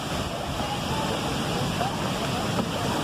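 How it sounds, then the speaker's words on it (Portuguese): A steady, continuous roar of rushing water from a waterfall in Presidente Figueiredo, Amazonas, Brazil, fills the air, dense and unbroken throughout. "cachoeira que vocês vão conhecer agora"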